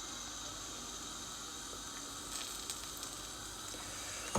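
An egg poured over slowly toasting bread sizzles in oil in a frying pan, a steady close crackle with a few sharper pops near the end.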